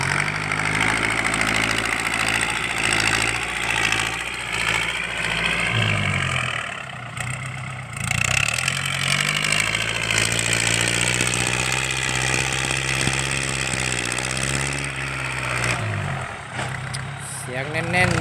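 A Mitsubishi L50 pickup truck engine without a turbo idles with a loud, deep exhaust, a steady rumbling drone close by that dips briefly a few times, with someone talking over it.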